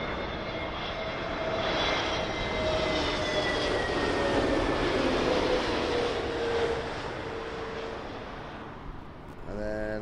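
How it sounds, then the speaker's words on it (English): A TAP Air Portugal Airbus A321neo landing at London Heathrow on runway 27L produces a sustained jet-engine roar with faint whining tones that swells through the middle and fades, while people talk softly over it. "So here's your TAP Air Portugal."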